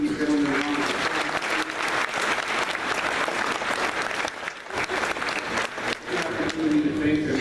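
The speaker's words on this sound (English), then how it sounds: "Let's give these gentlemen a round of applause." A seated audience claps steadily and fairly loudly throughout, a dense wash of applause with light crowd murmur.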